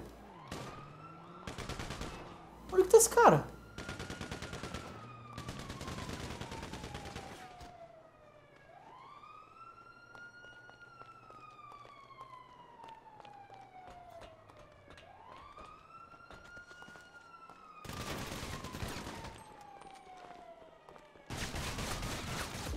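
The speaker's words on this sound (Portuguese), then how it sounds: "De onde tá saindo esse tiro, cara?" Bursts of rapid gunfire in the video game GTA V crackle in short volleys while a siren wails up and down steadily underneath, with sharp, loud shots clustered at the start and end.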